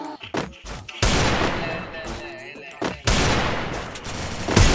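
Desert Eagle pistol fire in a mobile shooter game, with heavy booming shots in quick bursts and long reverberant tails, loud and close over the game's background sound.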